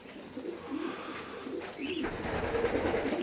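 Racing pigeons coo nearby, low throaty rolling calls repeated several times over a couple of seconds, with faint background rustle and no talking.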